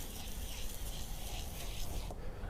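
Sandpaper scrubs a wet plastic car headlight lens in circular motions, a close, dense and steady rasping rub that holds constant throughout.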